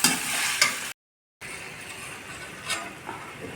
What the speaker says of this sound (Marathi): तर आपण त्यात राईस टाकून घेऊया।